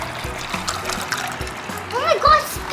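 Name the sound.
hot water spilling during toy play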